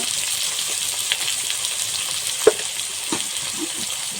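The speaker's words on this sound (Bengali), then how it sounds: "বেগুন ভালো করে ভেজে নেব পরিমাণ মতন" Brinjal frying in a pan makes a continuous soft sizzle, close by, broken by a few faint stirring taps and one sharper clack near the middle, with nobody speaking.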